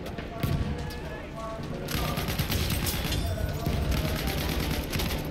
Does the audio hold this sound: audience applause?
no